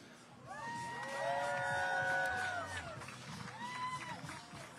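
A crowd cheering and whooping at a bass fishing weigh-in on Lake Murray, a swelling roar of voices with shrill shouts that fades, then rises again briefly.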